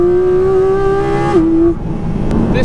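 A Porsche GT4 RS on bumpy country roads, its mid-mounted engine holding a loud, steady, tonal drone close by before the pitch drops sharply as the revs fall and the car carries on more quietly.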